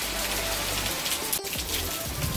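none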